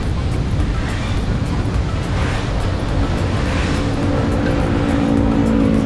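A coal-fired steam train running close by, heard as a loud, continuous rumbling roar with a steady low drone and a faint rhythmic undertone, with no voices.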